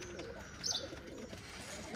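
A Khulna Naktona pigeon, a rare nose-cut male, coos softly in a brief burst at mid-distance over steady background hiss and ambient noise.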